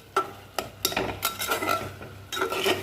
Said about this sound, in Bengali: এই জন্য খুন্তি দিয়ে নেড়ে দিলাম